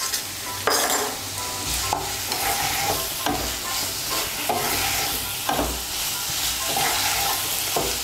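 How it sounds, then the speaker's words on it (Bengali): Slit green chillies and sugar stirred in a hot frying pan for a vegetarian pepe posto, a dense continuous sizzle with regular scraping strokes of the spoon, close and loud throughout with no voices. "এর মধ্যে এখন আমি চেরা কাঁচা লঙ্কা আর স্বাদ মতো চিনি দিয়ে দেব"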